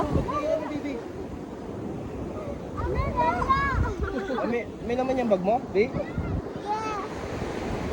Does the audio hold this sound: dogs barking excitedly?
no